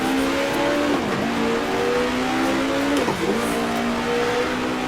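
Racing engines roar at the start of the 1966 Australian Grand Prix in the Grand Prix Legends game, loud close-up revving as the cars accelerate through gear shifts, with a couple of sharp pitch drops between rising whines.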